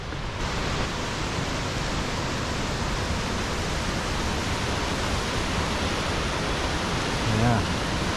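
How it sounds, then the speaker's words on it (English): A steady, broadband rush of falling water from a waterfall on the Glen Aulin Trail in Yosemite's high country fills the whole clip, constant and fairly close, with no other sounds standing out. "This waterfall coming down here."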